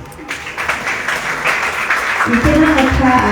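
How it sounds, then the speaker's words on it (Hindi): Audience at a book launch ceremony breaking into applause, a broad patter of clapping that swells and continues as a speaker's voice comes in over it. "कुल 7 किताबें आज आपके साथ घर जाएगी। तालियां।"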